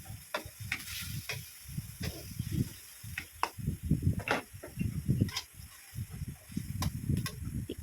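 Pork and green beans (Baguio beans) sizzle softly in a pan after soy sauce is added, with repeated scraping stirs and clinks of a utensil at an uneven rhythm, fairly quiet and close.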